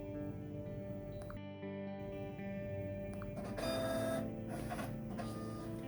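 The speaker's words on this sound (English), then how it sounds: "The printer in the tear house will print a ticket" A ticket printer churns out a sample ticket with a steady mechanical whir and buzzing motor tones, a brief pause mid-run, then a louder feed stretch, close by and continuous.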